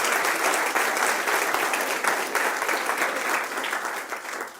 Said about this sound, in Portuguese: E se é verdade, dê um aplauso forte para o Senhor Jesus.